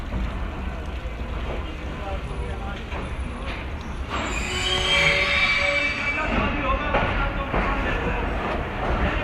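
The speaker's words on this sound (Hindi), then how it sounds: "खानेवाल जंक्शन रेलवे स्टेशन पर 5 मिनट का स्टॉप करने के बाद अब हमारी 12 हज़ारा एक्सप्रेस बढ़ रही है" The 12 Down Hazara Express pulls out of Khanewal Junction with a constant low rumble of rolling wheels, then high, sustained squeals of wheels on rail that grow louder and hold toward the end.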